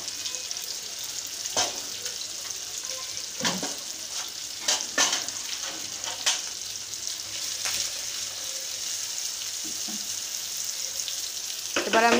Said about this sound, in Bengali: এবার আমি পেঁয়াজগুলি ভালোভাবে ভেজে নিব।